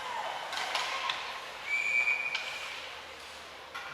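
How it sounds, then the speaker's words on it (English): A referee's whistle sounds for an offside at a girls' ice hockey game, one short shrill blast heard faintly in the middle of rink crowd noise. "Looks like an offside whistled."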